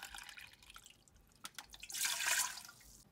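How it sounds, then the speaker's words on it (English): Water poured into a pot holding rice for pork congee, a steady close splashing and trickling that swells louder near the end of the pour, with scattered drips before it. "So now I have added 9 cups of water."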